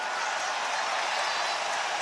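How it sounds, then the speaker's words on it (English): Crowd applause at a K-1 kickboxing event, a dense continuous wash of clapping heard from a distance and holding steady throughout. "Listen to the applause."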